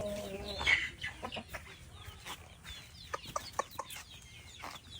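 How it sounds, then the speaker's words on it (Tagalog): Chickens cluck close by in a small irregular chorus, with a louder squawk early on and then sharp, clipped clucks and calls continuing over quiet background noise. "Papatulogin natin ngayon ang mga manok."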